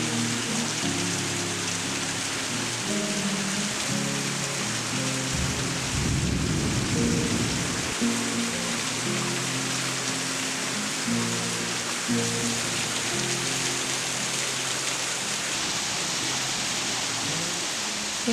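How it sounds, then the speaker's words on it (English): A thunderstorm rumbles with low rolling thunder over continuous rain pattering on surfaces, one heavier crash swelling around the middle, steady and enveloping with no voices. "It is storming and it is such a beautiful sound."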